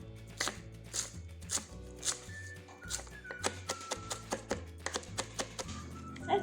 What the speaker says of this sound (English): We'll start with dill, and I like to chop very fine.